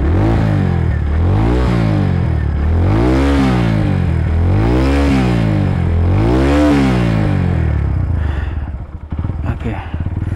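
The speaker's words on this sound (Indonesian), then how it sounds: "Geber-geber dulu ya." A Kawasaki W175 motorcycle engine revs loudly up and down in four long, rising-and-falling surges, then settles back toward idle near the end.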